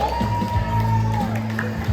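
A kids' audience at a Sunrisers performance in Bandung cheers, whoops and shouts for a young performer named Kenzi. The lively crowd noise is close and continuous, with a voice audible over it.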